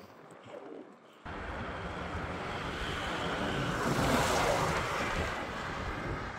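Strong headwind roars across the microphone while cycling in Africa, a sustained, rushing gust that swells and stays loud, with no speech.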